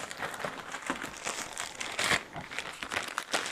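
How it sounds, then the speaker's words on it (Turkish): Plastic bag crinkling and rustling as a power cable for a Xiaomi X20 Pro robot vacuum is pulled out, close and continuous with a few louder crunches. "Güç kablosunu da poşetimizden çıkardık."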